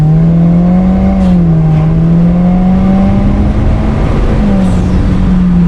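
A 2017 Subaru WRX Premium CVT sedan accelerating hard on a short straightaway: a loud, steady engine drone whose pitch holds nearly level with slight dips and rises, close and continuous from start to end, with no talking.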